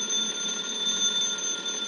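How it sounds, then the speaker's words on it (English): A telephone ringing as a radio drama sound effect, a continuous shrill electric bell tone, fairly loud and steady, with no voices. "Are you going to answer the phone?"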